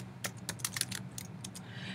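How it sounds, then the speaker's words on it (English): Keys on a computer keyboard being tapped while a Spanish sentence is typed, with quick, irregular clusters of light, close clicks over a faint room hum and no voices. "let's say I'm typing a Spanish sentence here"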